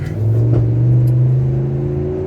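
Ram 1500 eTorque Hemi half-ton pickup towing 10,000 lbs on a freeway with tightened torsion bars, its engine and road noise forming a loud, steady drone that holds for the whole stretch.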